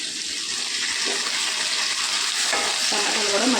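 Tomatoes fry with onions and cashews in a pan, producing a steady, fairly loud hissing sizzle with soft stirring scrapes throughout.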